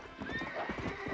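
Horse hooves clip-clop in a steady rhythm in the video game Red Dead Redemption, with a brief whinny and faint talk mixed underneath.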